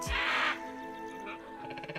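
A hippogriff in Hogwarts Legacy lets out a single harsh, raspy screech close by, fading into ambient music and soft background sounds.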